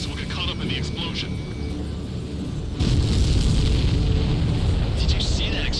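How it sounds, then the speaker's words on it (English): A supply ship blows up in the combat flight game Ace Combat 7, a loud broadband roar that swells sharply midway and holds under continuous jet engine noise, with radio chatter and voices heard over it. "Did you see that explosion? Looks like that's one of them down."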